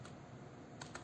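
A single key press on a computer keyboard, with a couple of faint clicks near the end of a brief stretch of quiet room tone.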